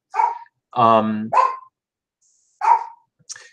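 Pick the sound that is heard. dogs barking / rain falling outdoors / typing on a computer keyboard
dogs barking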